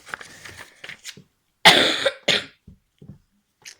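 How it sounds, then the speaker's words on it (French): A quiet throat-clearing leads into a burst of two or three harsh, close coughs, then a few soft smacks and breaths. "Oui je tousse."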